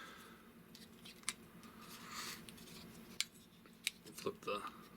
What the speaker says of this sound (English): Split this assembly here out like this. Fold the legs down.